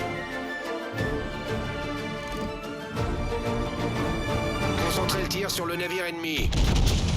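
Naval guns boom repeatedly from a French warship (Republique) during a World of Warships-style naval battle game, heavy blasts layered with game music and effects, loud and close, under continuous commentary.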